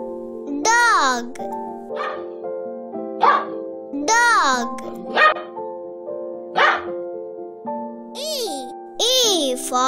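Short, bright dog barks recur every second or so over light, bouncy music.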